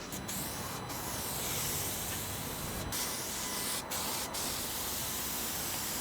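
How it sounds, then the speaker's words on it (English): Spray glue from an aerosol can is sprayed onto a wooden side door panel in continuous close hissing bursts, broken by a few brief pauses between passes, with no talking. "Once you've sprayed it, give it a couple of minutes to go tacky."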